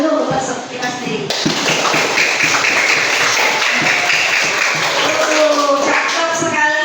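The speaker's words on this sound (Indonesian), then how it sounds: "silahkan kita tepuk tangan dulu untuk kita sendiri" Students in a classroom clap their hands together in a dense, sustained burst of applause, with a teacher's voice heard around it.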